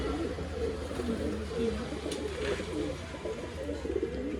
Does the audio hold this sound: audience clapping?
no